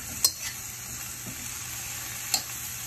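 Brussels sprouts sizzle in a stir fry over high heat, making a steady, close hiss with a couple of sharp clicks from the pan and no talking.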